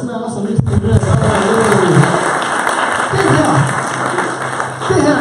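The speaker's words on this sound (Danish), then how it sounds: "giv lige hinanden en hånd der" Audience applause at a hypnosis show, steady clapping and crowd noise filling the room for several seconds, with voices mixed in.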